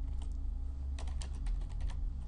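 Clicking on a computer keyboard in quick irregular clusters, light and near, over a steady low room hum.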